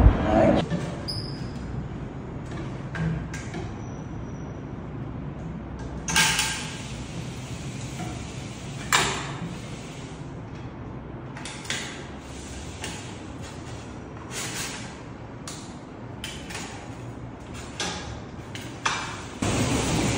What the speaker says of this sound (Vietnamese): chỉ với khoảng tầm 20 đến 30 giây thôi là tôi đã có thể gấp gọn lại chiếc xe như thế này rồi